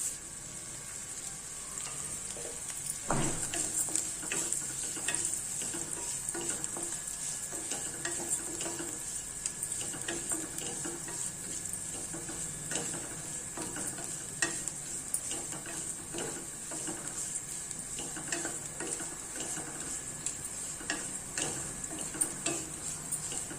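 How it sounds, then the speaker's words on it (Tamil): Flattened rice (aval) crackles as it fries in ghee, a steady close sizzle with frequent ticking stirs of a spoon against the pan throughout. "இப்போ இதே நெய்யில் நம்ம இந்த அவலை போட்டு நல்லா பொரிய விட்டுடலாம்"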